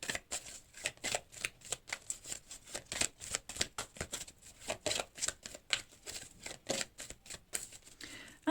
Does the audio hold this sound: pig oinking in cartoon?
no